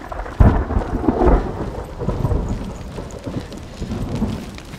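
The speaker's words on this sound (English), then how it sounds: "The ambient sound of the thunder, the lightning, the crackle of the fire, the voices, the wind." A stormy ambience in the video game Hellblade: Senua's Sacrifice, with heavy rain hissing steadily and loud rumbling thunder rolling through in bursts near the start.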